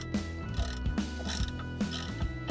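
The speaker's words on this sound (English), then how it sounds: "I'm going to attempt to remove just the rearward bolt" A hand ratchet works loose the rearward rear brake bolt on a Janus Halcyon motorcycle, giving a steady run of close, crisp clicking strokes repeated in a regular rhythm, with no voices.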